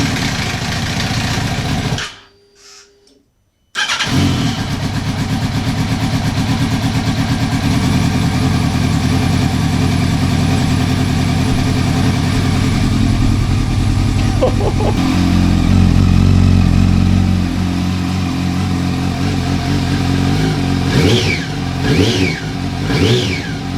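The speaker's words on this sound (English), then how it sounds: "The idle is so smooth." Yamaha R1 motorcycle engine with welded damage, idling loud and close with a steady rumble, cutting out briefly before restarting, then revving up and settling back into a smooth idle.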